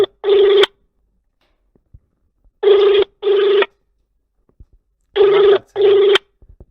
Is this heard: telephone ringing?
yes